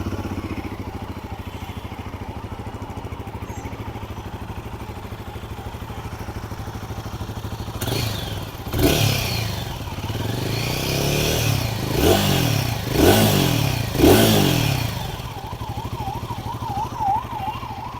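2024 Royal Enfield Guerrilla 450 motorcycle idling close by, then a series of sharp throttle blips rise and fall in quick succession before settling back to a steady warbling idle.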